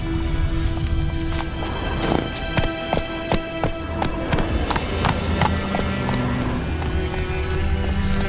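Roach the horse trotting in The Witcher 3: Wild Hunt, rapid rhythmic hoof clip-clops striking hard ground, close and steady, with game ambience underneath.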